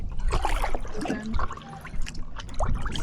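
Water trickles and splashes close by around a stand-up paddleboard on a Greek coast, a wet, uneven dribbling with soft slaps from the board and paddle, continuing for a few seconds.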